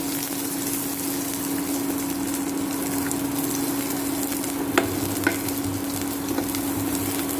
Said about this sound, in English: Roast the onion, saute it for some time till it becomes transparent.